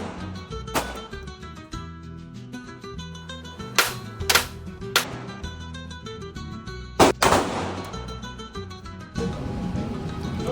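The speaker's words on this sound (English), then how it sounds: "I went to Caliber, where I can learn how to shoot with pistols for self-defense purposes." Pistol gunshots crack out at an indoor shooting range, a series of loud, sharp reports spaced irregularly with short gaps, some in quick pairs, ringing close to the microphone.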